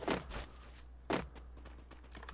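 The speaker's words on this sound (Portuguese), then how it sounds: "Eu tô escutando ele aí pulando." Thumping landings from a player jumping inside a house in Free Fire, two fairly loud thuds about a second apart followed by softer taps and knocks, with no talk over them.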